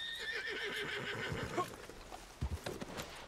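A horse in Red Dead Redemption 2 gives a clear, high whinny lasting over a second, followed by a few soft hoof clops and snorts nearby.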